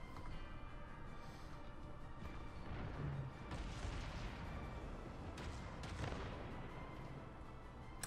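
Naval artillery from warships in World of Warships, muffled cannon booms and shell impacts over a steady low rumble of sea and engine noise, a few distinct blasts spaced several seconds apart, moderately distant.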